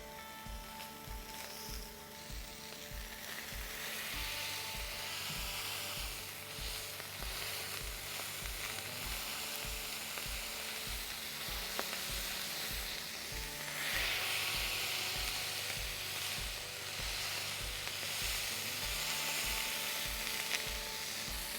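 Two Wagyu beef patties sizzle and fry on a flat top griddle at medium-high heat, a steady, dense crackle held close and even throughout with no talking.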